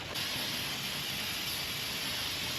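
Steady, close hiss of an aerosol spray held for a couple of seconds without a break, loud and even from start to finish.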